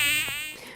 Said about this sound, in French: C'est Damien qui est en train de tester, notre drone en même temps